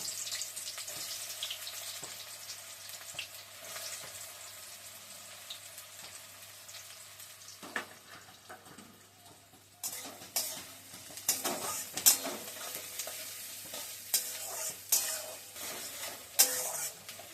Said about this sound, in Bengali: তেলটা গরম হয়ে গেছে, এবার আমি পেঁয়াজগুলো ছেড়ে দেবো। পেঁয়াজগুলো ছেড়ে দিচ্ছি।